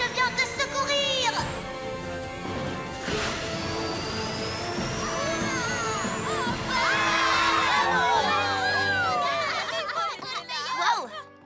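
A cartoon pony crowd cheers and whoops for Rainbow Dash, with excited high voices and shouting rising into a dense, loud celebration over bright background music.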